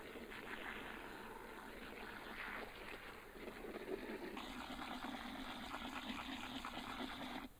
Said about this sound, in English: So I put lots and lots of water in here.